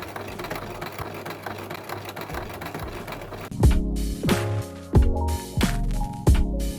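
A sewing machine running in a home sewing room, a steady hum and needle chatter that then breaks into several distinct motor-driven stitching bursts with pauses between, close and fairly loud.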